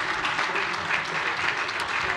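Sustained applause fills a metropolitan council meeting hall, a dense and steady clapping from many hands that holds at an even level for its full length, with no voices rising above it.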